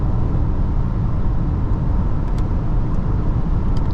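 A SEAT Tarraco 1.5 TSI SUV cruising at 140 km/h around 2750 rpm in top gear produces a constant, loud cabin rumble of road and wind noise with a low engine drone, steady throughout and without speech.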